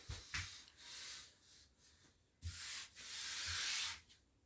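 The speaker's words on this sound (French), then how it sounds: "faut que je ponce ici pour faire une nuance plus claire" Sanding of wood by hand, in passes to lighten the shade, during boat fitting work. Rough rasping strokes come close and fairly loud, short ones at first and then two longer sustained passes with brief pauses between them.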